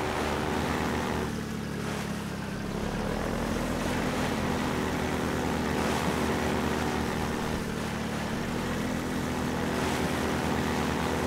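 A Half-Life 2 airboat's loud, steady engine drone with a whooshing propeller roar, continuous throughout, like a fan-driven boat skimming over water.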